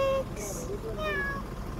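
A cat meows a couple of times, fairly close, with a voice talking softly in the background.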